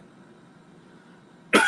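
A single sharp cough bursts out at the very end after a stretch of quiet room hum, loud and close.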